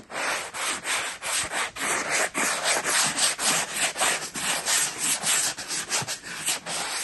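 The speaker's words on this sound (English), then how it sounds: "Give it a little light sanding." Light hand sanding of wood while finishing up a ceiling fan installation, quick repeated back-and-forth scratchy strokes in a steady rhythm, close and clear with no talking.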